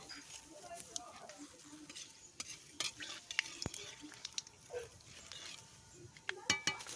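Bay leaves and panch phoron sizzle in hot oil in a wok, a quiet crackle under scattered clinks and scrapes of a utensil against the pan.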